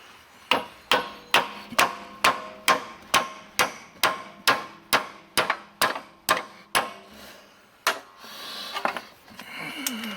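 A steady series of sharp hammer blows, about sixteen evenly spaced strikes, close and loud, followed by some scraping and rustling.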